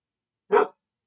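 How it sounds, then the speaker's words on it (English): A single short, sharp dog bark rings out close by in an otherwise quiet indoor room, with nothing else heard. "Charlotte, can you please bark somewhere else?"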